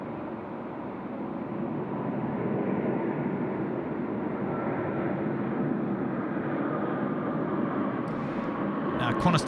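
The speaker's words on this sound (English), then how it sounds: "Qantas 28, the 787 there, just touching down" A Qantas Boeing 787 touching down at Sydney Airport at night, a steady broadband jet roar held at an even level throughout with people talking over it.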